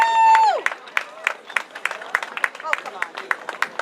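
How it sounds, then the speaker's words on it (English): Crowd at an outdoor Second Amendment rally claps for an introduced speaker, scattered sharp claps of moderate loudness following a brief tonal sound at the start. "big round of applause for Scott"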